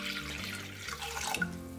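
Half a litre of water pours into a cooking pot, a short close liquid splash and gurgle, quiet and alone.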